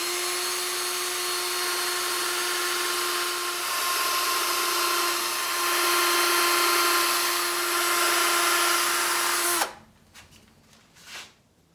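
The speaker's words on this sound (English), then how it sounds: "through there for a pilot hole for the screw that'll be used to hold this on" A power drill bores a small pilot hole into soft pine for a screw, giving a close, steady high whine for about ten seconds before it stops, followed by a few light handling knocks.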